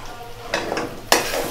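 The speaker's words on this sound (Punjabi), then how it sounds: "ਹੋਰ ਇੱਕ ਵਾਰੀ ਇੰਜ ਲਾਈਏ ਤੜਕਾ ਇੰਜ ਕਰਕੇ ਹਲਾਈਏ" Mutton with a fresh tadka sizzles in a pan for biryani. Short scraping strokes stir it over the constant frying hiss, and a sharp utensil clatter comes near the end.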